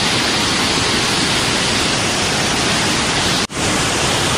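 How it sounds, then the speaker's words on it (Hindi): Ashok Jhar waterfall in Odisha rushes loudly and continuously in the rain, a thick, close roar of falling water that cuts out for an instant near the end before resuming. "ये रहा मेरे पीछे अशोक झर वाटरफॉल"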